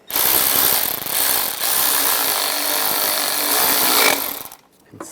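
A power tool runs in a loud, continuous burst, tightening a bolt on a bracket during a fuel injector job on a 1996-2002 Toyota 4Runner, then cuts off near the end.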